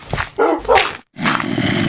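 A dog barks a few times in quick succession, close and fairly loud, with a brief silence before a steadier noisy stretch follows.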